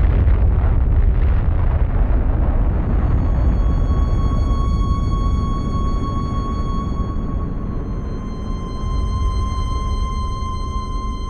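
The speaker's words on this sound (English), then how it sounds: "the first atomic bomb struck an enemy target" Deep explosion of the first atomic bomb used on an enemy target over Japan: a loud, sustained, rumbling roar that slowly thins, while steady musical tones come in over it.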